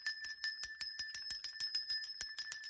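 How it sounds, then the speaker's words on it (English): A small hand bell is rung in quick, regular strokes, about five per second, each a bright metallic ding. It is fairly quiet and close, with no voices. "I'm going to ring my bell now."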